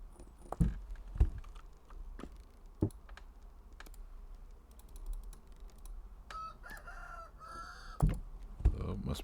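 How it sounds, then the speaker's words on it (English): A rooster crows in the video game Vintage Story, a rising crow that sits under close clattering keyboard typing and clicks. "Stupid rooster's making noise."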